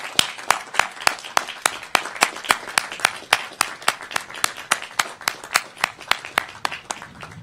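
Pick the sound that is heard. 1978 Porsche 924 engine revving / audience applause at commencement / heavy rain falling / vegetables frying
audience applause at commencement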